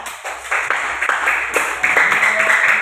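A sixth-grade class claps together in a school classroom, with a steady stream of hand claps at close range. A few firmer beats stand out, and children's voices chatter underneath.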